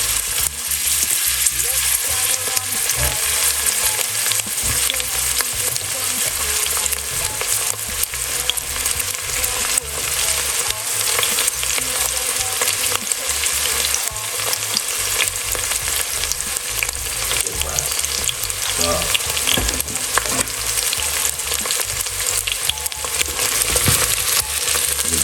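Spring onion and red onion fry in a pan for a creamy coconut cauliflower soup, a loud, dense, unbroken sizzle with steady scraping stirs throughout, close up and without talk.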